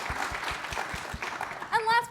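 Scattered, modest audience clapping greets a panelist at a technology panel on software testing and quality, brief and a little distant, with a voice speaking as the applause fades.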